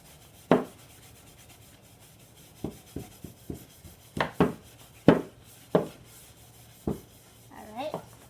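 A brush sweeps sawdust from a wood engraving block in short, soft, separate brushing strokes, quiet and close, with a faint scratchy flutter at the end.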